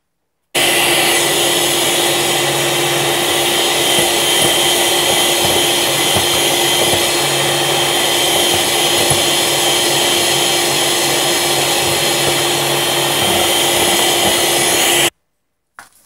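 An electric mixer on high speed beats egg whites with sugar, giving a loud, steady, close whir that runs unbroken for about fifteen seconds before cutting off abruptly.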